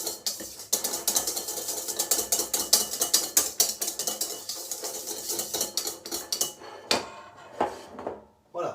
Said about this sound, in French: vais mélanger ma crème fouettée avec les œufs. Je mélange tout ça